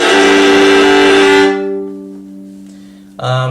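A loud, harsh bowed viola note with a gritty, scratchy edge, cutting off abruptly and leaving a lingering low ring, then a brief second stroke.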